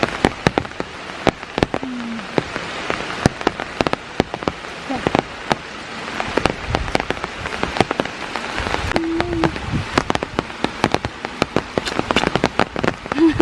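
Steady monsoon rain patters on surfaces all around in a forest, with sharp, frequent drips landing close by over a constant wash of falling water.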